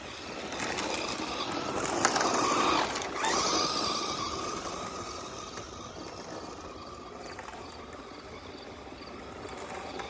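An HPI Jumpshot 2wd RC car runs on gravel, a continuous coarse grinding hiss with a growly gear whine that swells loudest early on, then settles into a steadier, slightly fainter rumble.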